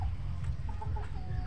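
Chickens clucking softly in a farmyard pen, brief low clucks and short calls over steady background rumble, with no talk.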